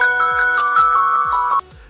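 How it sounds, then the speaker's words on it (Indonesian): A polyphonic Vertu phone ringtone recorded by the London Symphony Orchestra plays loud and close, bright tonal notes repeating in a rhythmic phrase with plucked bass pulses, then cutting off abruptly near the end. "Kalian tahu nada dering polifonik Vertu yang khas itu?"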